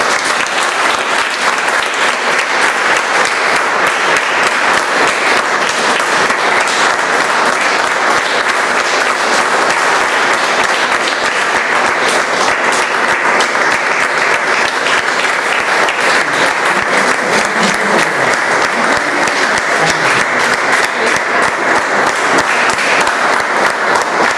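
An audience at a Bombay Toastmasters Club meeting gives a long, steady round of loud, dense applause for distinguished Toastmaster Arvind Nair, with no break for the whole stretch.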